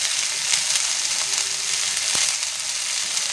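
Ivy gourd (kundri) frying in oil in a pan hisses in a loud, steady sizzle with a brief scrape of stirring partway through.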